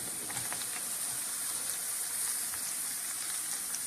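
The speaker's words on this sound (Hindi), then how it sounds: "ये बिस्मिल्लाहिर्रहमानिर्रहीम पढ़कर हम इसको फ्राई करेंगे।" Food for iftar fries in hot oil, giving a steady, dense hiss and crackle throughout with small pops scattered over it, close and even, with no one talking.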